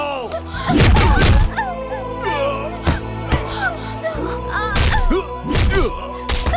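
Heavy thuds and thumps of a man being beaten in a Hindi-dubbed South Indian action movie fight, loud impacts in bursts mixed with shouting voices and dramatic music.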